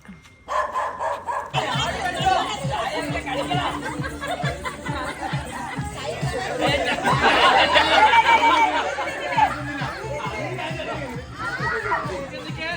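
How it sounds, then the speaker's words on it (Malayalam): A dog barks repeatedly at a relative's house during Onam, mixed in with lively chatter and laughter from several people nearby. "പട്ടിയുടെ കുരകുരു കുരകുര"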